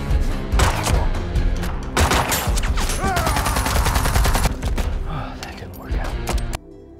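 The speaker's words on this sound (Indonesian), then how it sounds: "terjadilah aksi tembak-tembakan" Rapid bursts of gunfire crackle almost continuously over a dramatic music score, with dense overlapping shots, then the sound cuts off abruptly near the end.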